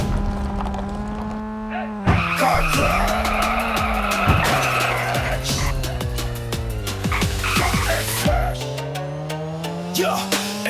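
Tires skid and screech in the car crash video game Car Crash and Smash X, a sustained squealing layered over a loud, steady music track for about ten seconds.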